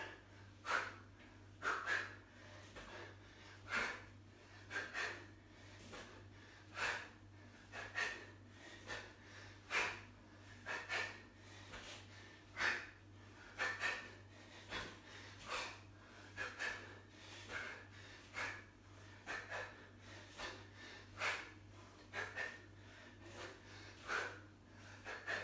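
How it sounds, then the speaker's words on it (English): Rhythmic heavy breathing from someone in a sit-up position during a bootcamp workout, with regular sharp exhales roughly every second over a low steady hum, close and fairly quiet. "Nice regular breathing."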